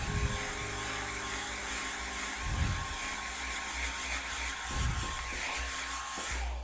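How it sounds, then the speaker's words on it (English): A hair dryer blows steadily over wet paint on a canvas during a mountain sunset painting session, a continuous loud whir close up with brief shifts in pitch and airflow as it is moved. "I'm going to blow dry for just a second."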